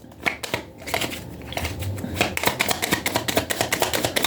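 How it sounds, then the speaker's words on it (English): A deck of tarot cards is shuffled by hand, producing a close run of rapid, crisp riffling and flicking bursts that grow steadier and more rhythmic toward the end. "Okay, I just was shuffling the cards backwards."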